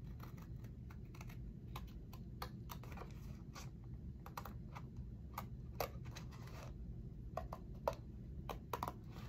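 Small scissors snipping through paper while a unicorn junk journal is being made, a string of quiet, crisp clicks and snips in an irregular rhythm, close up in a quiet room.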